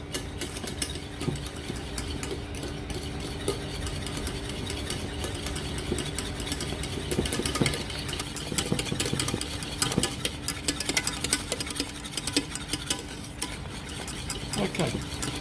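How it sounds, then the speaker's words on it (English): Vanilla pastry cream being whisked vigorously in a bowl, a steady busy scraping and clatter that runs throughout, with a low background hum and occasional louder metallic clinks. "We'll give it a real good whisk."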